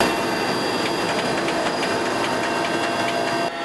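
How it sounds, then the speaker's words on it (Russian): A rescue helicopter carrying rescuers drones loudly and steadily from inside or close by, a dense engine roar with faint rhythmic rotor pulsing, cutting off abruptly at the end. "Вертолет с 4 спасателями на борту отправился в Усть-Майский район ранним утром."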